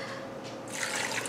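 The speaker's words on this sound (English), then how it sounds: "Now, I'm going to fill up with water" Water pours steadily from a tap into an Instant Pot holding salted potatoes, a soft running trickle that grows fuller and brighter toward the end, close and moderately quiet with no talking.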